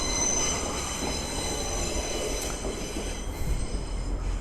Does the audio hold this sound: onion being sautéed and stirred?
no